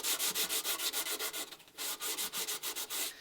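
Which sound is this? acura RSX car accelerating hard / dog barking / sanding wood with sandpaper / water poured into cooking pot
sanding wood with sandpaper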